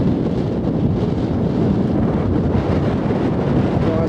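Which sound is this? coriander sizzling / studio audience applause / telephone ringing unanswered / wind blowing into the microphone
wind blowing into the microphone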